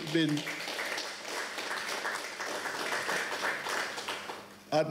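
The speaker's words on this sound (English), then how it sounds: "ought to give yourself a round of applause for that" A Montego Bay Chamber of Commerce and tourism business audience gives a round of applause, a steady wash of clapping with voices over it.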